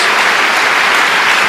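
A church congregation at a Passover-themed sermon claps, a loud, dense burst of applause lasting under two seconds.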